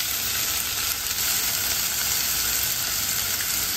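Chicken pieces spread across a hot frying pan sizzle with a dense, steady crackling hiss, close and continuous with no talking.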